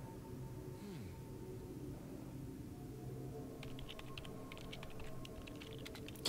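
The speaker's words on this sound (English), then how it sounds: "Keyboard clicking." Rapid clicking on a computer keyboard, a burst of light taps in the second half, faint under a steady low hum and droning tones from a space game.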